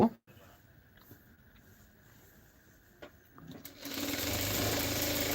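A sewing machine stitches a seam down to the hip on a georgette shirt, silent handling at first, then a loud, steady mechanical whir that starts suddenly near the end and keeps running.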